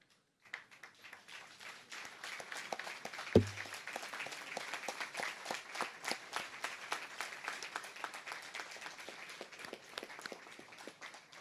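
Scattered applause fills a courtroom at a court investiture ceremony in the US Virgin Islands, a steady moderate patter of hands clapping after a brief quiet start, with one louder thump partway through.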